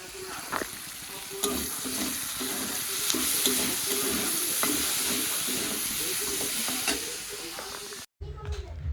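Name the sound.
food frying and being stirred while cooking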